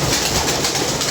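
Pigeons coo softly in a loft in Lahore, their murmuring calls blending into a steady broadband hiss with no talk over them.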